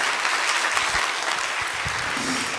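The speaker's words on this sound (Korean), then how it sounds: "여러분, 정부할 목사님과 정중혁 목사님 박수로 맞이해 주십시오." An audience at a church forum claps to welcome two pastors to the stage. The applause is a dense, steady crowd sound that carries on evenly throughout.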